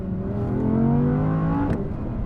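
An Audi R8 RWS with a 5.2-litre naturally aspirated V10 revs loudly and close by, its pitch sweeping upward in a strong, sustained rise before easing back, with no talking.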